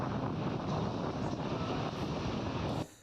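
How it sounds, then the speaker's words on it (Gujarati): Strong howling wind sweeping through villages near Morbi during unseasonal rain, a dense, continuous roaring rush buffeting the microphone that cuts off abruptly at the end. "પવનના સુસવાટા સાથે કમોસમી વરસાદ પડ્યો છે"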